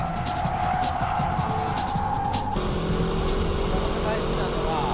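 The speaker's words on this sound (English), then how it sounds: "Let's check out the braking drift." A car doing a braking drift, heard as a steady, loud engine and road roar with a sustained whining tone that drops partway through as the car slows and slides.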